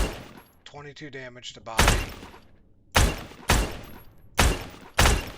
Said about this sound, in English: first up, you got the machine gun. 249